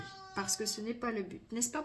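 A female house cat meows repeatedly to be let outside, a string of close, clear meows under and between a woman's speech.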